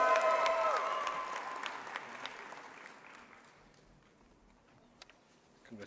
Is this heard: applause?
yes